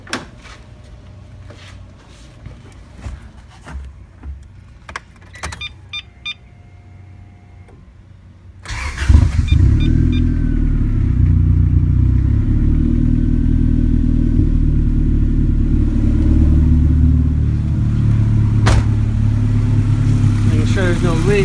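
A car engine cranks and catches after an air/fuel mixture adjustment for a lean condition, then settles into a steady, loud, close idle that runs on without pause, following quieter clicks and handling noises.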